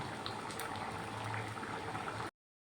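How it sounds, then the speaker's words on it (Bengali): A pot of chana dal with cardamom powder and green chillies simmering on the stove: a steady, faint bubbling and gurgling boil, close up, with no talk. "এলাচ গুঁড়োর ফ্লেভারটা যাতে রান্নার মধ্যে মিশে যায় সেই জন্যে একটুখানি ফুটিয়ে নিচ্ছি"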